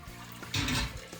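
Hot water tipped through a bag of grain mash while brewing an all-grain New Zealand IPA, a short close burst of pouring and splashing lasting under half a second amid quiet room tone.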